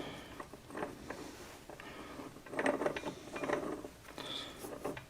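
A spinner slides onto the splines of a Honda Grom engine during a rebuild, giving close, light metallic clicks, taps and scrapes in short bursts, with no talking.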